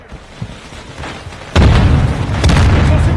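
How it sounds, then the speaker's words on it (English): A cruise missile strike in a first-person shooter game lands as a sudden loud boom about halfway through, followed by a sustained rumbling roar and a second swell of blast noise near the end. "And almost killed myself with my cruise missile"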